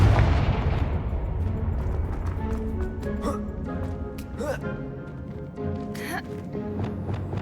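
Confringo fire spell blasts in Hogwarts Legacy, a loud rumbling explosive burst that fades over several seconds, with sharp crackling impacts and game effects after it.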